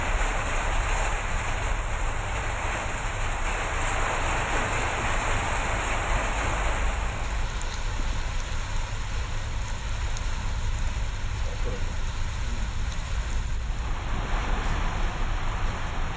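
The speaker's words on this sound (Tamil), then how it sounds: "சுமார் 1 மணி நேரம் பெய்த கோடை மழையால் வெப்பம் தணிந்து குளிர்ச்சியான சூழ்நிலை நிலவியது." Heavy summer rain in Kanyakumari district pours as a dense, constant hiss and patter, loud and unbroken throughout, with a faint wind-like wash and no voices.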